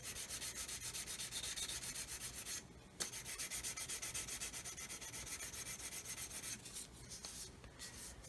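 A sanding stick rubs steadily across the painted surface of a Roden 1/144 scale C-141B Starlifter model, a dense rhythmic scratchy rasp heard up close with two short pauses.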